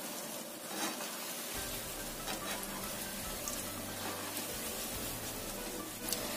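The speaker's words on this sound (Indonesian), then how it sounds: "Goreng semuanya wajan aja. Goreng sampai kuning keemasan sambil sesekali dibalik." Snacks frying in a wok of hot oil, a steady crackling sizzle that starts abruptly and continues evenly, with occasional sharper pops, close and moderately loud.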